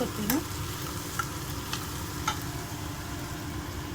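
Paneer frying in a pan as turmeric and chili powder go in, a steady close sizzle with soft scraping and stirring, a few brief utensil taps standing out above the constant hiss.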